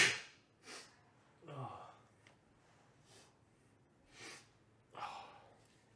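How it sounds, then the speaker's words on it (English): Several sharp, breathy bursts from a nearby person, sniffs and a sneeze-like explosive exhale, separated by quiet pauses. "Have to sneeze."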